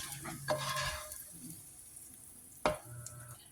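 Food being stirred together with egg in a large pan, two distinct scraping strokes over a low, quiet sizzle, with a short clatter of utensil against metal.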